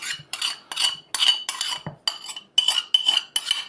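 Chicken drumsticks being mixed with a honey-soy marinade, a series of short, close, bright metallic clinks and scrapes of utensils against a bowl in quick bursts.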